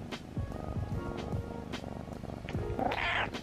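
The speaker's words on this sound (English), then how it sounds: "She just purrs all the time." A young kitten purrs steadily up close in a low, rhythmic rumble, with faint rustling and a brief higher sound near the end.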